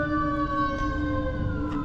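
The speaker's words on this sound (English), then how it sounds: "I'm sorry about the sirens." Emergency vehicle sirens wailing on a city street in Philadelphia, a loud sustained tone with slowly shifting pitch under low traffic rumble.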